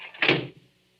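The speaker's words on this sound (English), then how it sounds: "Close the door, quick." A door swung shut quickly in a radio suspense drama, a single short thud with a brief rattle that fades into a quiet room.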